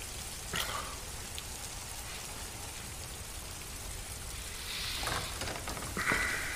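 Steady rain pours down in a continuous hiss in the video game Detroit: Become Human, with a few brief louder splashes and clicks breaking through near the end.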